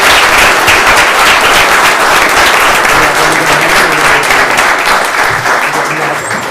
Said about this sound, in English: Can we please give Officer Regenthal a round of applause for his job well done?